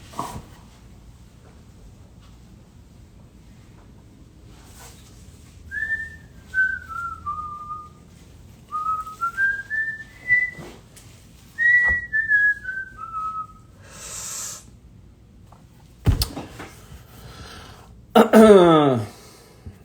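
A thin, wavering whistle from a blocked left nostril with breathing, repeating in several gliding phrases over a faint background, followed by a few sniffs and snorts.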